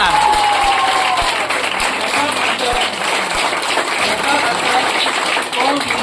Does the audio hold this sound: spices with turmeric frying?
no